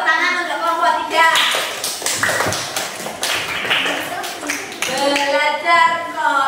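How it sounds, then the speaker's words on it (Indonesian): Children clap for a presenting class group, giving scattered, uneven hand claps and taps mixed with lively voices and chatter, close and fairly loud. "Berikan tepuk tangan untuk kelompok 3"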